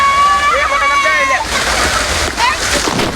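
Water splashes and sloshes loudly and close at an artificial waterfall in a resort water park, with a continuous rush; voices, including a child's, call out over it.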